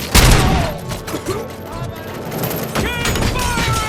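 Rapid overlapping gunfire in the Robocop: Rogue City game, a dense fusillade of shots and impacts that runs throughout, with shouted voices mixed in.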